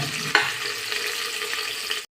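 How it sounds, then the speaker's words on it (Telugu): Onion pieces and green chillies fry in oil with garam masala, making a continuous close hiss with one sharp clink near the start, then cutting off abruptly. "ఉల్లిపాయ ముక్కలు, అలాగే పచ్చిమిరపకాయలు వేసుకోవాలి."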